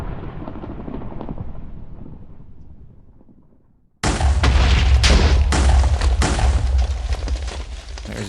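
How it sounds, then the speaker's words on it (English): In modded Minecraft, a muffled rumble fades out, then loud continuous explosions burst in, booming and crackling densely without pause. "There's the explosions finally."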